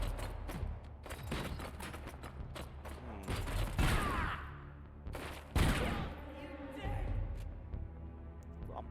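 Gunfire in RoboCop: Rogue City, bursts of rapid shots and sharp bangs scattered across the stretch with mechanical clanks, over a steady low game rumble.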